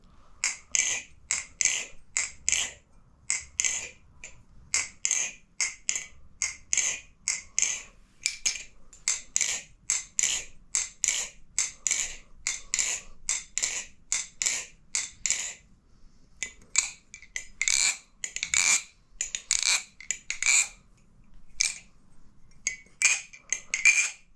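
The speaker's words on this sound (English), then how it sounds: "Sound test on the live versus the trainer" Rapid metallic clicks and clinks repeat continuously as a balisong butterfly knife is flipped, bright and glassy in tone, with brief pauses between bursts.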